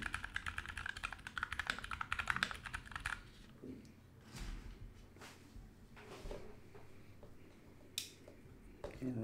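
Typing on an HHKB Daisy mechanical keyboard fitted with lubed 65g Zealios switches, a quick patter of close keystrokes that is busiest at first and then thins into scattered taps.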